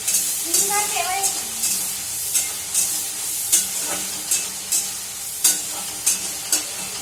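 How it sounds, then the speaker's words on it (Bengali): Bengali-style masala being sautéed and stirred in a pan, a steady close sizzle punctuated by repeated sharp scrapes of the spoon against the metal, with brief bits of talk in between. "একটু মশলাটা কষা কষা হোক বেশ"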